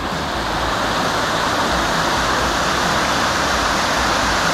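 Isabella Falls, a waterfall with an overhang and moss garden beneath, pours in a steady, dense roar, close and constant with no voices.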